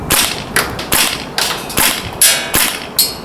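Repeated shots from a PP-2K (PP2000) gas blowback airsoft SMG fired at a target roughly 28–30 metres away, eight sharp cracks spaced about half a second apart, loud and close with brief decays.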